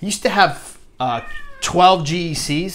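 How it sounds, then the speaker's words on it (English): A house cat meows once, a short clear cry close to the microphone, set between stretches of someone talking about his knife collection. "that was my cat, by the way."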